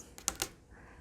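Keyboard keys are tapped on a desk right beside a desk microphone, giving two or three quick, close clicks at low overall level, with no voices.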